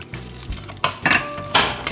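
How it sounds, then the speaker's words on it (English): Butter heats in a frying pan on medium heat with a light sizzle under a few sharp clinks and scrapes of a utensil against the pan. "You just want it just so it sizzles a little bit."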